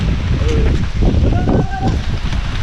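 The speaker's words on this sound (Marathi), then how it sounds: "वारा पाऊस सगळं काय आलंय" Wind and rain lashing a forest in a village storm, a loud continuous roar and gusting rumble close to the microphone, with faint voices calling briefly over it.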